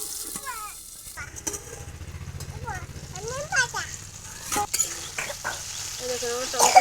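Green tomatoes for a Bengali-style chutney cook gently in a covered pan over low heat, giving a soft, steady sizzle with occasional stirring clinks while someone talks over it.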